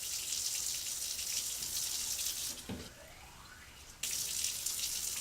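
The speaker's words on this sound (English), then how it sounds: "time how long it takes to fill up 100 milliliters of water" Tap water runs into a 100 millilitre graduated cylinder, a steady hiss that cuts off briefly midway, with a rising fill tone audible, then resumes at full strength to the end.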